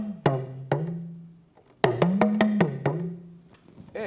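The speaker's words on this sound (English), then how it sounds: "So I said earlier, this is the talking drum." A Yoruba talking drum beats out the phrasing of a spoken greeting in sharp, close strokes, some notes held and bending upward in pitch like speech tones, with a few irregular pauses between the phrases.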